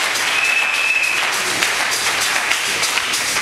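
A church congregation applauds and cheers loudly, with steady dense clapping and scattered shouts filling the space for several seconds.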